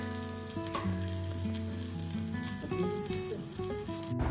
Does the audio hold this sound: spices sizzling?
yes